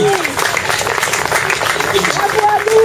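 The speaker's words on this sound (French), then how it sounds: "on les applaudit très fort" A crowd at a national immigration day gathering at the Bastille in Paris applauds loudly, a thick clatter of clapping mixed with voices calling out close by.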